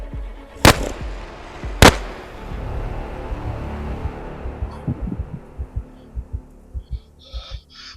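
Two sharp, loud gunshots crack about a second apart in a Hound of the Baskervilles radio drama, followed by a low rumble and a series of soft dull thumps.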